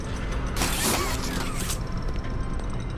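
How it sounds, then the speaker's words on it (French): A mechanical door grinds open with a creaking, ratcheting rush in the horror video game Poppy Playtime Chapter 1, loud and close for about a second, then fading into steady ambient hum. "La porte s'ouvre, nous passons"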